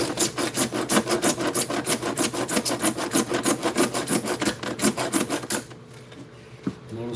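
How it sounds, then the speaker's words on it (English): A handsaw cuts into a shower pipe joint with rapid, rhythmic rasping back-and-forth strokes, close and steady, before stopping abruptly near the end with a faint knock after. "We don't need much, so we'll just use the handsaw."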